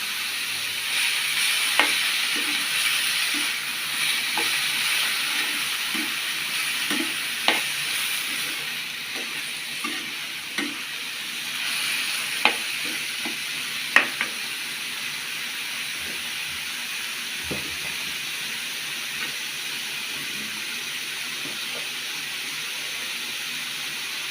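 Boli frying in a pan like potato fry, giving a steady, moderate sizzle with soft stirring clicks and scrapes scattered throughout, and no voices.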